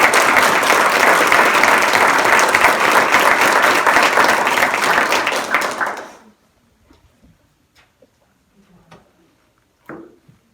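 Guests at a Teacher of the Year luncheon applaud in a loud, dense burst of clapping that stops abruptly partway through, followed by near silence with a few faint knocks and a brief thud.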